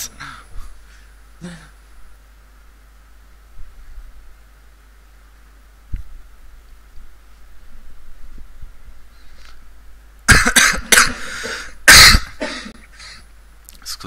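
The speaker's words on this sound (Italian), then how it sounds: "Scusate solo che ho un po' di tosse." A person with a week-long cough is playing Fortnite and coughs near the microphone: two short, loud harsh bursts close together near the end. Before them comes a long stretch of quiet room hum with faint clicks.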